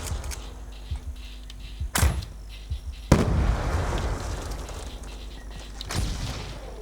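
Several sharp explosive bursts of grenades in Call of Duty: Black Ops 2 multiplayer go off, one close and loud followed by a crackling rumble, then another blast a few seconds later.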